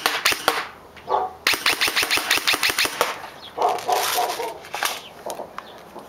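A Noveske SBR airsoft AEG fires in rapid sharp bursts, first a quick volley and then a string of evenly spaced single shots, crisp and close.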